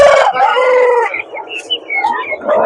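Roosters crow and chickens cluck at Sabunchu poultry market, a loud close crow opening the moment followed by overlapping bird calls and market bustle, with no talking.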